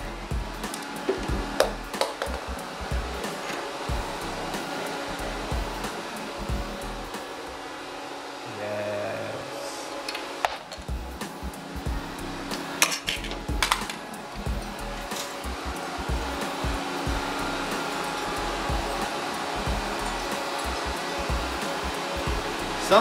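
A hair dryer runs steadily and loudly in a workshop where a chain reaction machine is being built, a broad continuous whoosh with scattered clatters and knocks over it.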